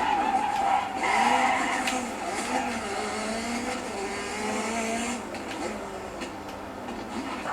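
A rally car drifts in the racing game Dirt 3, its engine whining in rising and falling sweeps over a continuous tyre-skid hiss that holds throughout.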